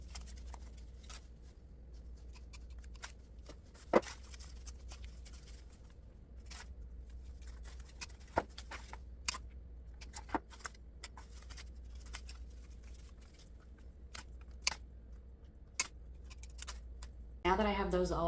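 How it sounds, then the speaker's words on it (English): Artificial lemon stems are snipped into pieces, with sharp, isolated clicks of cutting scattered irregularly over a quiet room, faint and close, with one louder rustle at the end. "I'm just going to cut all of these off of the main stem."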